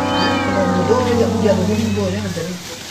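A cat meows repeatedly with drawn-out, wavering cries, close and loud over a steady low hum.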